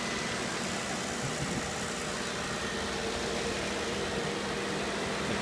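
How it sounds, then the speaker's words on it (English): A 2002 Hyundai XG350 3.5-liter engine, pulled out with its transmission and wiring harness, idles quietly and steadily at a low, even hum that runs unchanged the whole time with no voices. "Nice, quiet running motor."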